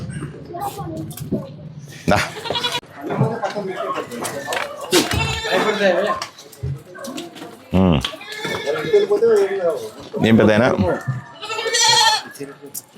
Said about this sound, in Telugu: ఎన్ని మేకలు ఉన్నాయి?